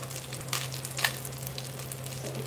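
Aromatics sauté in a pan on low heat for chicken tinola, with a steady soft sizzle, a few light stirring taps and a low background hum. No one speaks.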